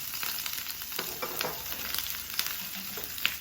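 Ginger, garlic, green chilies and curry leaves sizzle steadily in hot oil for chicken popsicles, a dense crackling hiss with soft stirring scrapes throughout, close and fairly quiet.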